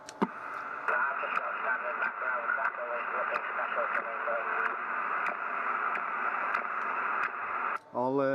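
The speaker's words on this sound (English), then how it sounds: "Have you got this noise on frequency, like a chirpy noise?" Radio static with a steady hum and a faint chirping tone repeating at regular intervals, ending in a brief warbling squeal.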